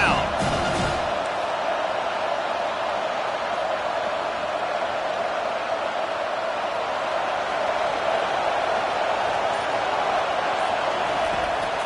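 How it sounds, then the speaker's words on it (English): A home crowd roars at a college football game between Penn State and Arkansas on a third-down defensive stand, a dense, steady wall of cheering and noise sustained loudly throughout. "Here comes this home crowd as the defense tries to get off the field on third down."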